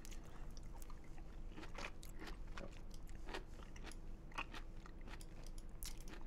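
Close, wet chewing and crunching of food with the mouth open, loud smacking bites repeating irregularly over steady low background noise, with no talking.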